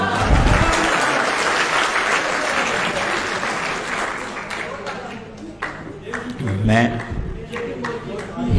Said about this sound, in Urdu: ان کی کمپیرنگ کے لیے تالیاں ذرا ہو۔